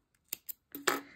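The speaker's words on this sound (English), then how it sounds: "Cut it off." Scissors snip through yarn while a knitted elephant is finished on a circular knitting machine, giving a few sharp, close cuts: two quick clicks, a pause, then a longer crisp snip.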